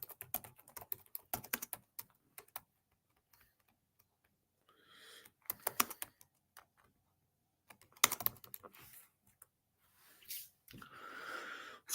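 Keys on a computer keyboard clatter in quick irregular bursts, close and fairly quiet, with pauses between flurries and a few soft breathy noises.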